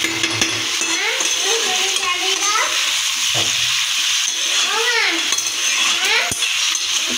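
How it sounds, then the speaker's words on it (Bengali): Spices sautéed in a pan over low flame, a steady sizzle with a spoon scraping and clinking against the pan, while a voice talks over the cooking. "কষাতে হবে, কষানোর ওপরই ফ্লেমটা একটু লো করে খালি কষাতে হবে অন্তত 10 মিনিট ধরে"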